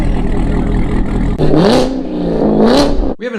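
A C7 Corvette with a Corsa exhaust revs hard twice in quick succession, close and loud, each blip climbing sharply before dropping back over a rumbling idle.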